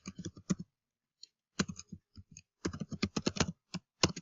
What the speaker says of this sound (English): I can type that on there for you.